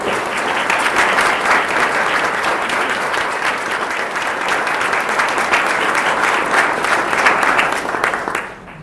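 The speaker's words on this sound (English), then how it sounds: "let's give a round of applause in advance for these brave individuals." A crowd applauds loudly and steadily, sustained clapping filling the whole stretch before fading out at the end.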